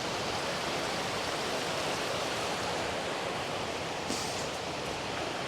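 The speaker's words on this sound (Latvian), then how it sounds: "Esam nonākuši līdz mazam ūdenskritumam, kurš ietek iekšā vienā lielā ūdenskritumā." Water rushes steadily where a small waterfall pours into a large waterfall in the mountains, a dense continuous roar with no talk.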